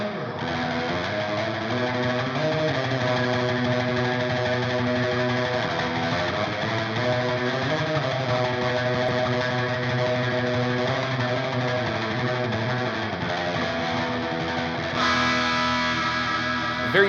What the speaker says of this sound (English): The very best way to get a surf rock guitar tone out of your amp is by taking a spring reverb sound